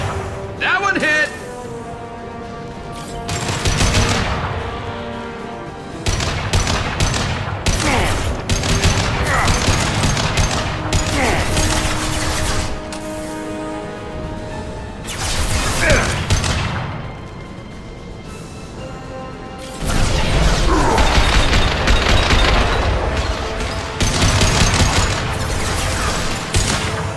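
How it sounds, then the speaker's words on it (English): Gunfire fills a Mass Effect 2 firefight: sustained loud bursts of automatic weapons fire and heavy shots, near and dense, broken by brief lulls, with voices talking and shouting over the shooting. "Firing a high-impact shot!"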